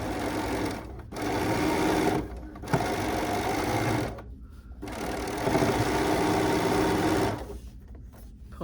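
A sewing machine stitches a quarter-inch seam with the presser foot lowered, running in steady bursts of close, loud mechanical whirring separated by short pauses, with no talking.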